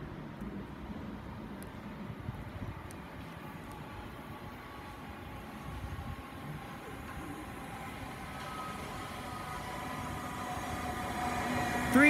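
A London North Western Railway electric train pulls in at Watford Junction station, a low rumbling roll that slowly builds in loudness toward the end, with faint squeals of wheels and brakes near the close.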